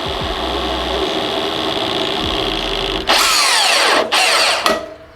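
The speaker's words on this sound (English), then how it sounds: "And then we'll drill the rest of it out." A drill bores into a wooden pen blank with a steady whine, then bites in with harsher grinding bursts before winding down near the end, close by.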